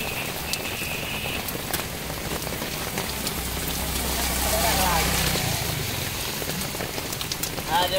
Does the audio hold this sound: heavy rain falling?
yes